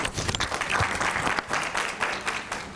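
An audience at a Founders' Celebration alumni breakfast applauds award inductees, a brief burst of steady, full clapping from many hands.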